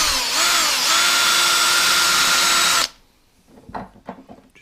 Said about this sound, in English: So once that good 1/8 inch pilot hole is started, we'll bump up to a letter F bit, which is pretty close to a 1/4,